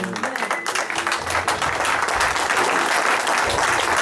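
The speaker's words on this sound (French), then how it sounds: "Give a clap of hands." A church congregation claps their hands together, a dense, continuous roar of applause from many people that holds steady for several seconds, fairly close and loud.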